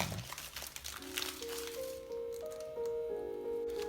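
A plastic bag of frozen peas being worked open, close crinkling and rustling with small squishy pops, followed by faint rising tonal squeaks and background hum, no talk.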